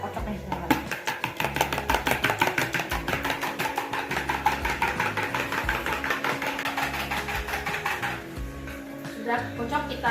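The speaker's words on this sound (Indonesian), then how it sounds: "Aku pakai 2 telur. Kita kocok nih teman-teman." Two eggs are beaten briskly in a bowl, a fast steady clatter of utensil against the bowl that keeps a regular rhythm throughout, close and clear, with a person talking over it.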